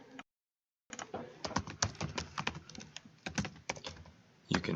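Rapid clicking keystrokes on a computer keyboard while entering a school account login, close and steady after a brief pause, with irregular bursts of taps and no voices.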